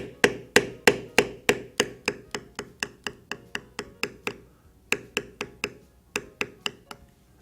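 A metal figure beveler on carved leather is struck by a mallet in a steady run of about twenty sharp, close taps, evenly spaced with a brief pause partway through, while shaping a horse head design.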